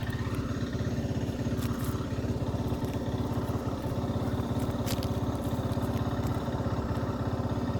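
An Access Motor Sport 250S ATV, Taiwanese-made and second-hand, is ridden with its engine close by, chugging in a rapid, steady, even rhythm with light mechanical clatter on top.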